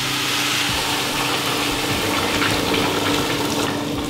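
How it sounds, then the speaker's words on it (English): Boiling water pours steadily into a pot over chicken for couscous with chicken and vegetables, a loud, continuous close splashing rush with no talking. "Now we'll add boiling water."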